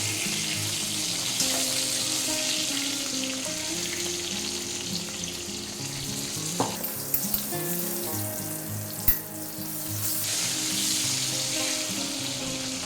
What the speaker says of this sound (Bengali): পটলটা আরও একটু ভেজে নেব, 2 মিনিট।